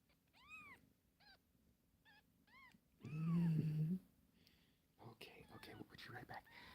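Several small, high mewing cries from a kitten come in short bursts, close and fairly quiet, with a person talking softly in between.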